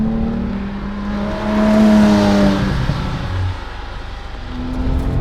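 Car engine revving up close, pitch climbing steadily, then dropping sharply through a quick gear change before pulling again, loud and continuous.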